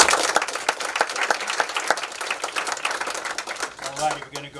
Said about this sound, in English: let's give the organizing committee a nice round of applause for bringing us together today.